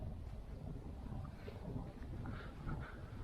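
Steady gusty wind buffeting the microphone, a continuous low rumble with broadband rushing noise and no clear voices.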